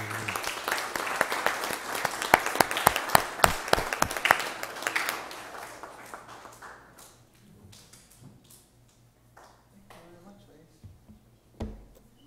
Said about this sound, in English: Let's give another round of applause there.